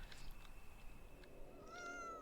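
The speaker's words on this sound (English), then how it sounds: "Meow. Yeah, that's my kitty." A pet cat named Bernard meows indoors, a faint drawn-out call with a rising tone near the end, heard quietly against a low background.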